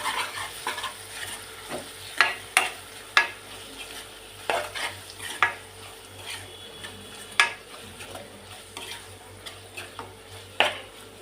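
Green chilli paste is stirred into bottle gourd pieces in a pan with a steady soft sizzle, while a utensil makes repeated sharp scrapes and taps against the metal. The sounds are close and continue with no talk.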